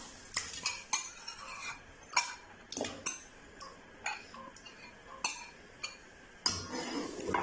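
A spoon scrapes and clinks repeatedly against a pot while stirring blended rice into milk, quiet irregular taps and scrapes coming every half second or so, close by and alone.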